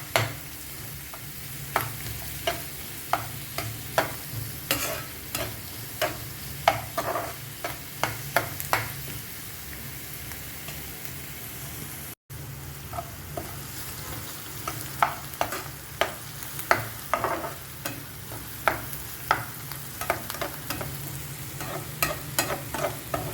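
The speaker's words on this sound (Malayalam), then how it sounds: "നന്നായി യോജിപ്പിച്ച് കൊടുക്കുക." Kadai mushroom masala being sautéed in a pan, with repeated scraping stirs of a spoon over a constant sizzle, close and rhythmic, briefly cut by a short gap.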